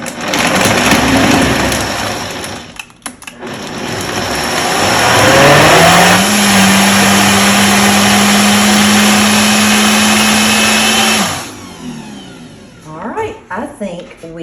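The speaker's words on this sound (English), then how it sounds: "I'm going to let it blend one more time" An Orange Julius drink whirring in a blender with vanilla added, a loud steady motor drone that swells, holds a sustained pitch for several seconds, then cuts off abruptly, followed by clattering.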